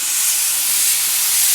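Loud, continuous hiss of a spray gun laying down a neon orange base coat on wheels, a steady airy spray held close for its full short length.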